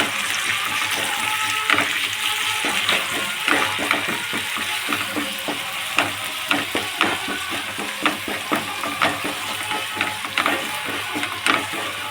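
Green gram thoran being stirred in a pan, with a steady sizzle and repeated scraping, tapping strokes of a spoon against the pan throughout, close and fairly loud.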